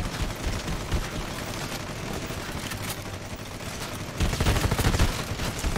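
Gunfire from the Red Solstice 2 video game, a dense, continuous fusillade of rapid shots that runs throughout and swells louder near the end, with no voices.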